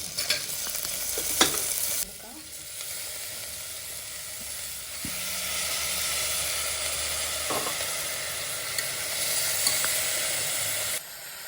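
Shallots and carrot frying with curry leaves for beef kuruma, a loud continuous sizzle and hiss close up, broken by stirring clatters and a sharp drop when the heat or lid changes partway, no talk.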